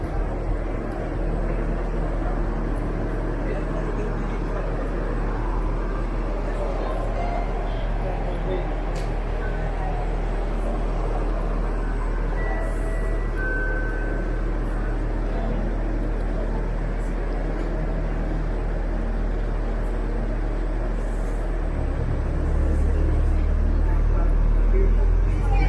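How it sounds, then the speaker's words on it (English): UP Express train pulling out of Weston station toward Pearson Airport: a continuous low rumble and hum that swells louder near the end as it departs. "the train as it gets ready to continue on its way to Pearson Airport."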